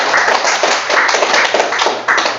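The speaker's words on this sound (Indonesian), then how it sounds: "Kita sekali lagi memberikan tepuk tangan." A small audience clapping at a teachers' training presentation, a close, dense patter of hand claps that swells and ebbs in waves for a couple of seconds.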